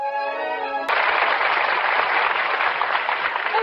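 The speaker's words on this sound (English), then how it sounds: "George, I heard all that applause outside." A studio audience at a 1943 radio comedy show breaks into loud, sustained applause, a dense crackling clatter that cuts in abruptly after a short musical chord and continues steadily.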